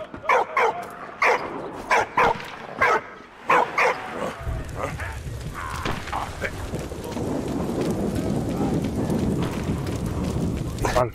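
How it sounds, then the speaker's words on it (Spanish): In the video game Valiant Hearts, a dog barks at a photo of a general in a run of sharp, evenly spaced barks and yips. A steady wash of rain-like noise grows louder and takes over as the barking thins out. "el perro está ladrando a la foto del general este de Bon"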